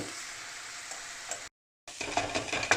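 Enchilada filling of onions, garlic and spice mix fries in a pan while a utensil stabs and stirs it, giving a soft continuous sizzle with scraping clicks and a brief gap of silence.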